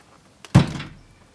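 Jaguar bonnet release latch unlocks with a single solid thunk after the release cable is pulled, close and brief with a short fading rattle.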